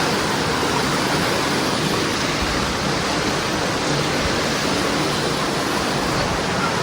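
A river at Srirangapatna runs at full force, a loud, constant, broadband rush of water, close and unbroken, with no voices.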